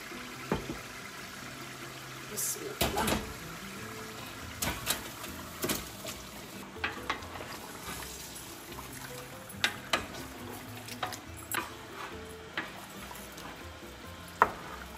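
Mutton pieces are stir-fried in spiced masala in a pan, giving a low continuous sizzle broken by repeated scraping and knocking of a spoon at irregular intervals, close up with no talk.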